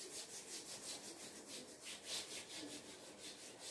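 Rubbing strokes of an eraser or duster wiping writing off a board in a classroom, a steady back-and-forth rhythm of about a dozen soft swishes, close and moderately quiet, with no talk.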